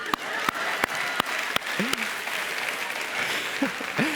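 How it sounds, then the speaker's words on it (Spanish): An audience at a group session on fear and anxiety claps in a scattered, moderately loud round of applause, with a few sharp distinct claps early on and a voice murmuring underneath. "Dense un aplauso."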